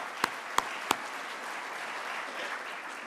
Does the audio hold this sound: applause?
yes